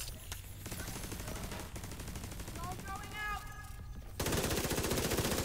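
The Division 2 gameplay carries rapid machine-gun fire in steady bursts throughout, with a louder, closer burst near the end, while players talk in French in the background.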